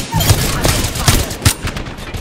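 Rapid gunfire rattles through a close firefight in the video game Apex Legends. Repeated sharp shots crack in quick bursts, loud and dense, with an uneven rhythm and no pause.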